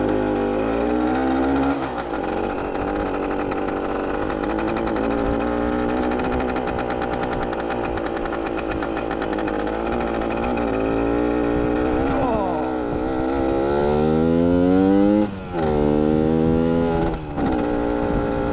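A 1975 Yamaha MX 400 motorcycle engine runs close by with a loud, rough idle, then revs rise and fall in repeated swells toward the end, with a brief dip between.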